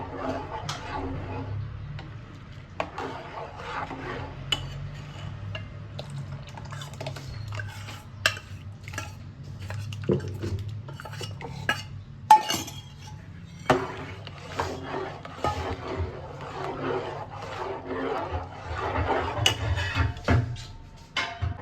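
Ground rice being stirred in a pot on a full gas flame while cooking dhaba-style kheer, with soft repeated scraping and clinks of a spoon against the pot, steady and close, over a low burner rumble.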